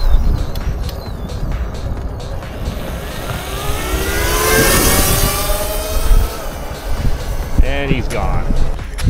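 A RAWRR Mantis Mini kids' electric motorbike accelerates away, its rising motor whine swelling and fading amid outdoor wind noise, with voices heard in the background.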